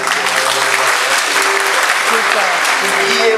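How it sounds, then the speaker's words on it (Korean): Loud, dense applause from a large church audience at a drama team performance, continuous and close, with a few voices faintly mixed in. "크게 박수 한번"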